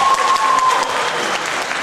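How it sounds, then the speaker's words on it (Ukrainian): Loud, sustained applause from a university audience at an address by the rector of Bila Tserkva National Agrarian University, steady dense clapping filling the hall throughout. "Давайте юрфак оплесками привітаємо."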